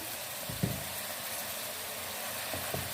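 Chicken cubes sizzling and frying in a pan with a steady, even hiss, broken by a couple of soft stirring knocks.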